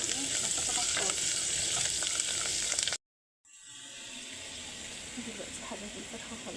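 Chicken sautéing in a pan for a winter taro and vegetable stew, a close crackling sizzle with stirring scrapes, cut by a brief silent gap before the frying resumes.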